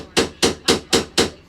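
Five sharp metal hammer blows in an even rhythm strike a boat engine bracket during engine removal on a Beneteau 473, loud and close with no talk between them.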